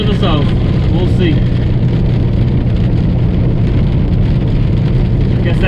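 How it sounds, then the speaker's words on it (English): Hail pelting a truck cab, a dense, loud, continuous drumming and rattling on the metal roof and windshield, with someone talking over it. "Hail falling from the blue skies."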